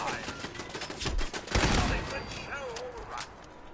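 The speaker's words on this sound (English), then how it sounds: "Alright, who's shooting?" Gunfire in Fallout 76 sounds as a run of rapid sharp shots with a louder burst in the middle, close and loud, fading toward the end.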